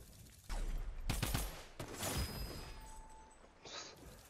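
Fortnite gunfire: several quick bursts of shots and impacts in a row, with mechanical clatter between them, a tonal in-game beep, and a fading tail. Everything is fairly faint, with no talking over it.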